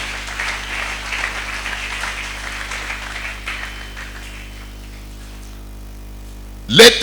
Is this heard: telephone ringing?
no